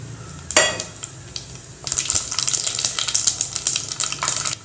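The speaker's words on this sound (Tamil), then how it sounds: "வெந்தயம் பொறிஞ்சிருச்சு, அதில் கடுகும் ஜீரகத்தையும் சேர்த்துக்கலாம்." Fenugreek, mustard seeds and cumin frying in hot sesame oil: a short clatter of seeds dropping in, then steady crackling and popping sizzle close by.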